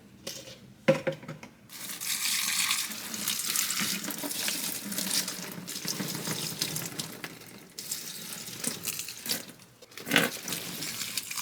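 Tap water runs into cups lined up in a sink, filling them to water houseplants. The stream is a steady, close hiss and splash that lasts most of the time, with a short break and a few bumps and clatters.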